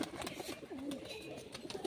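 Pigeons, including a white sand-eyed male and a yellow-eyed female, make soft, low cooing amid light rustling and faint background noise, heard briefly up close.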